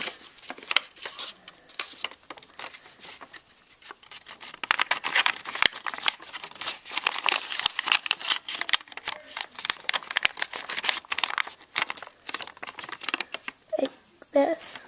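Paper is folded into an origami bird, with rapid close crinkles, creases and soft rustling that come in bursts and grow denser midway.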